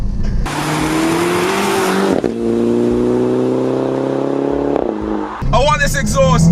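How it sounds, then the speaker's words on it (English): A Mini Cooper S convertible fitted with a Remus catback exhaust revs loud and close, with a sustained rising engine drone in the middle and bursts of speech before and after. "So this drive is basically going to be about the exhaust. It sounds amazing."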